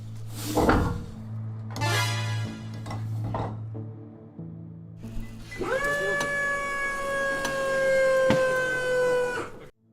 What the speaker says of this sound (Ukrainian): М109Л піднімається ствол.